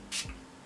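One quick spritz of face setting spray misted onto a face during makeup: a brief, close, airy hiss that cuts off fast, with quiet room tone on either side.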